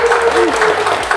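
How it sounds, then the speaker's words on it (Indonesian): Audience applause at a local talk show honouring a district head in Cibitung, steady clapping from a nearby crowd running throughout, with a voice and tonal sound layered underneath. "Kita tepuk tangan dulu buat Bapak kita."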